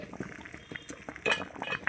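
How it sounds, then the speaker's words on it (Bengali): Water boils in a covered pot where hilsa fish is being steamed. Soft bubbling gurgles are mixed with light metallic clinks of utensils, faint and close. "দেখুন জলটা কত সুন্দর ফুটছে"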